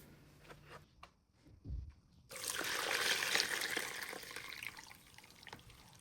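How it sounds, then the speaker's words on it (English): Cooked rice noodles drained in a kitchen sink, a steady rush of water pouring out for several seconds after a few faint drips and clinks. "I check on my rice noodles, and as you can see, it looks nice and tender. So I would be draining that out."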